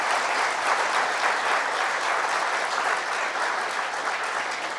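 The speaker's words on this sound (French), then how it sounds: "Gaby, il faut l'applaudir fort, Gaby, c'est important." Loud, sustained applause from an audience at a fire department recognition evening, greeting the director general as she comes up to speak, a dense steady wash of clapping with no gaps throughout.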